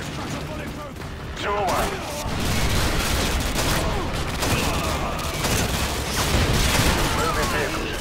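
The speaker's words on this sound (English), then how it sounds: "Firing javelin. Danger close." A Javelin missile fired in a military shooter game sets off heavy booming blasts and crackling gunfire. The loud barrage grows and rolls on for several seconds, with brief radio-style voices mixed in.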